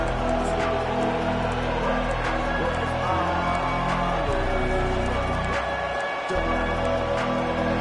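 A stadium crowd in the EA Sports College Football 25 video game roars steadily throughout during an online dynasty game, mixed with other game sound and a brief dip near the end.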